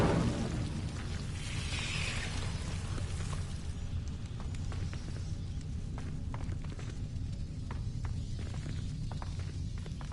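An Incendio fire spell cast in Hogwarts Legacy on PS5 opens with a loud whooshing burst, then settles into a lower, steady crackling roar with scattered small pops and footstep-like taps.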